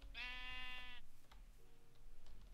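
A single sheep bleats in Minecraft, one wavering, buzzy call lasting about a second and heard close and alone. Quieter ambient game sound follows it.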